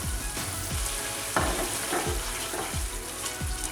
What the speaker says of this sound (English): I'm just going to let the spices cook in there a little bit more